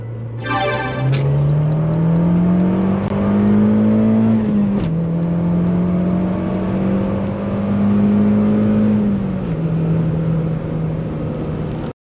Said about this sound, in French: on va aller essayer cette voiture pour se rendre compte de ses qualités dynamiques